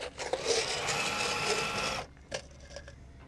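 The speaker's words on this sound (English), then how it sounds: "I'm going to go ahead and countersink the rest of these." A power drill countersinks screw holes in a boat's rub rail during a hull repair, giving a steady, loud whir for about two seconds that cuts off abruptly, then a few short faint clicks and taps.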